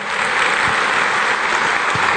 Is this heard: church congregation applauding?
yes